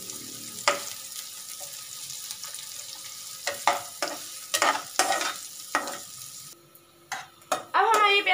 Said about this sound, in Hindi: जब ये तेल हल्का सा गर्म हो जाएगा तो हम इसमें ऐड करेंगे प्याज, प्याज भून लेनी है।